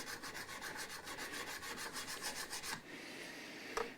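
Steady rasping strokes of a metal file across guitar frets during a Westone Thunder 2A refurbishment, a rhythmic back-and-forth rub for about three seconds, then quieter handling and a couple of light knocks.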